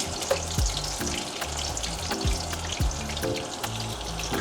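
Onion sizzles steadily in hot coconut and soya oil, a continuous close crackle with small rhythmic stirring knocks and scrapes, no voices.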